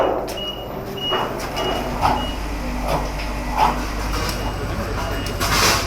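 Reversing beeps from a truck at a pipe-laying site, sounding as several evenly spaced mid-pitched tones over a steady rumble of machinery and outdoor noise.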